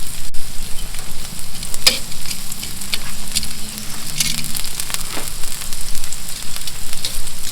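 Onions and mushrooms sauté in a pan on the stove, a loud close sizzle running steadily with occasional utensil clicks and scrapes, no talking.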